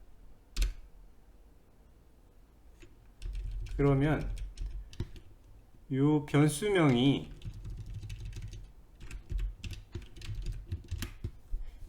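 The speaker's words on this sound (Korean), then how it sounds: "그냥 이렇게 타이핑 해보시고 변수명을 이렇게 입력합니다" Computer keyboard typing Java code during a programming lesson, quick irregular key clicks scattered across the stretch, with someone speaking over parts of it.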